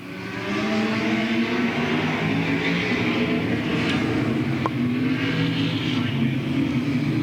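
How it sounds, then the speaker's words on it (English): Late model race cars roar around the Louisville Motor Speedway oval in a 1994 race, a steady loud engine drone with shifting pitch as the pack runs through the turns. "Gardner hops to the outside of the number 34 of Carl Wheeler now to battle for 2nd as they move back into turns 3 and 4."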